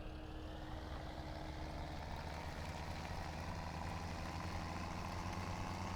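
A tractor engine idles in Farming Simulator 17 with a steady, even mid-to-low drone and a slight rise in pitch toward the end, continuous with no pauses.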